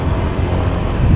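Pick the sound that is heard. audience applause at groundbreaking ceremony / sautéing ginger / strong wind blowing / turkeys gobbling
strong wind blowing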